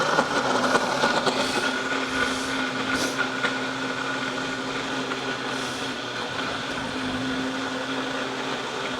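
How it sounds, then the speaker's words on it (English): An expensive blender whirs steadily on its puree setting, blending ginger for a ginger shot; the motor drone is constant and fairly loud, with no voices over it. "we have to get the expensive blender, and we put it on puree."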